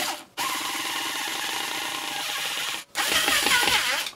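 A power tool driving a screw into a new furniture unit, whirring and ratcheting loudly and continuously close by, briefly stopping, then running again with a strained grinding tone.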